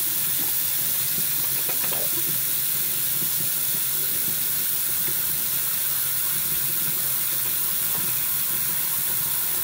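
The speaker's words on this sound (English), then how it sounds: "Turn the water on." Water pours steadily from a tap, a constant close hiss with a few faint clinks, no talking.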